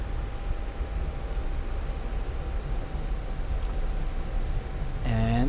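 A Pakistan Air Force F-86F Sabre jet engine spools up for its takeoff roll, giving a steady, dense roar with a faint high whine, and a rising tone sweeps upward near the end.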